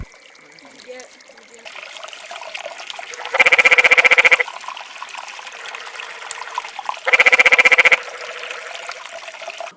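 Cool creek water trickling in a desert backcountry setting, a steady light flow throughout with two louder, buzzing bursts of noise breaking in briefly.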